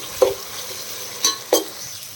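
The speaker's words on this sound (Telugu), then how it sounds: "ఇందులో పచ్చిమిర్చి, ఆలు, మిల్ మేకర్ ఇవన్నీ రెడ్గా అయ్యే వరకు ఫ్రై చేసుకోవాలి" Green chilies, potato pieces and soya chunks frying in a pan, with three quick spatula scrapes over a soft sizzle, close by and without talking.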